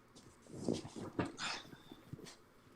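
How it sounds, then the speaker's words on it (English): A dog in the video game Persona 4 whimpers and yips in short bursts, fairly quiet, with a few brief higher cries scattered over a couple of seconds. "Oh right, the dog."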